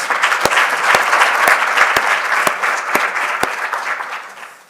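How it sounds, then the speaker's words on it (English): Symposium attendees applaud a cohort of research presenters, a full crowd clapping with a few sharp individual claps standing out, swelling early and fading toward the end. "another round of applause to Session 4 cohort"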